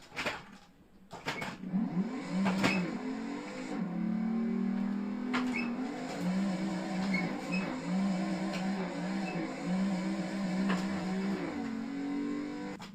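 A car in a racing video game comes out of a drift, its engine droning and revving in rising and falling sweeps with tire squeal, steady and fairly loud throughout with no talk.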